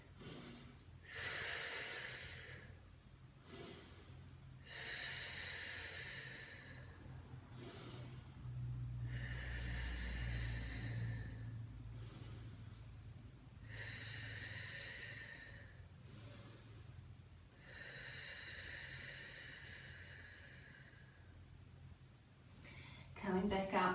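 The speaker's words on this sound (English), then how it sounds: "Keep breathing. Nice deep breaths." Deep, steady breaths during a full-body Pilates exercise with a small ball, recurring in slow cycles of loud inhales and exhales through the whole stretch with a low hum underneath.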